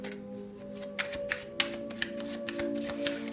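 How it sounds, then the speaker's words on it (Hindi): A tarot card deck is shuffled in a few quick riffling bursts, crisp snaps spaced irregularly over a steady low background hum, close and fairly quiet, with no talking. "तो चलिए शफल कर लेते हैं कैप्रिकॉर्न मकर राशि के लिए"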